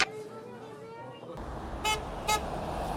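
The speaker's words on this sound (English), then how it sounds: "Every honk of the horn becomes an affirmation." Two short car horn honks sound a half second apart over a busy outdoor bed of traffic and murmuring voices.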